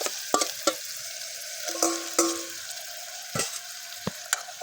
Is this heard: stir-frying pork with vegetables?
yes